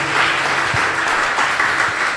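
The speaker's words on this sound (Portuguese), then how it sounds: "Vamos aplaudir Jesus em forte" A church congregation at a Friday healing and deliverance service applauds loudly in a short, dense burst of clapping that stays steady and close, with a few thumps underneath.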